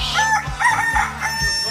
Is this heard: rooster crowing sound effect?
yes